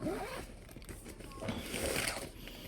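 A zipper on a DJI Mini 5 Pro drone case is pulled open during an unboxing, giving a steady, close ripping zip for the full stretch.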